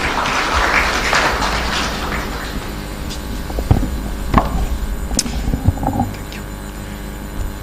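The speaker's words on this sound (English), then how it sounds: "A round of applause as he's going to the podium." Applause fills a formal event hall at the Golden Tulip with Zanzibar's President Hussein Mwinyi present, as the EU ambassador walks to the podium: a dense, steady clatter of clapping over the first few seconds, thinning into scattered claps and thumps.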